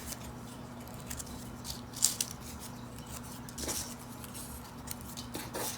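Scissors trim the ends of paper dahlia petals, giving a few faint, scattered snips and light crisp cuts over a quiet background.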